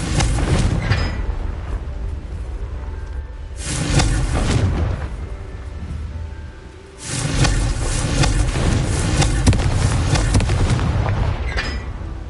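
Booming fire-spell blasts from the Confringo spell in the video game Hogwarts Legacy, with loud bursts near the start, middle and later, all over a dense, continuous rumbling roar.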